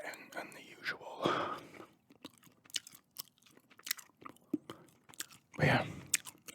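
Gum chewed close to the microphone gives wet, crunchy mastication sounds in uneven bursts, mixed with soft breathy whispering.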